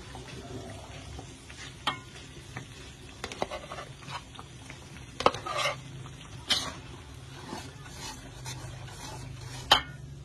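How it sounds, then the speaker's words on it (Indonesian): Ground chili paste sautés in a pan for Indonesian gulai babat, a tripe curry, with a soft ongoing sizzle punctuated by sharp scraping stirs of a spatula at irregular intervals, fairly quiet and close. "Kita tumis sampai bau harum."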